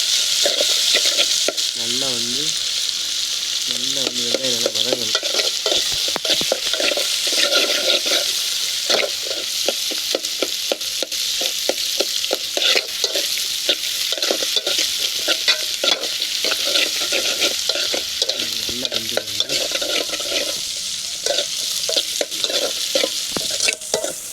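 Tomato, green chili and curry leaves sautéing in a pan for squid curry, a dense hissing sizzle punctuated by rapid, rhythmic stirring clatter, with faint voices humming or talking in brief stretches.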